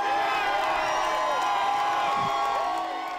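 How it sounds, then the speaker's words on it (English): A crowd cheers and whoops as salon owner Shelley Luther tears up a citation, a dense, steady roar of voices with rising shouts, loud and close throughout. "Luther tore up the citation to the cheer of the crowd"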